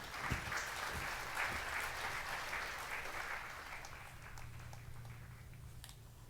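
Crowd cheering and applauding in the PS3 video game Puppeteer, a broad steady roar of clapping and cheers that slowly fades, with a low hum underneath toward the end.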